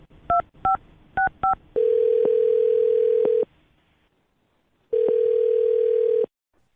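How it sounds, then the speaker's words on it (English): Four quick two-tone telephone dialing beeps, then a steady dial tone that stops, a short silence, and a second stretch of tone, clear and close with no talk, as a call is placed for a radio show. "I'm going to dial this phone up right now"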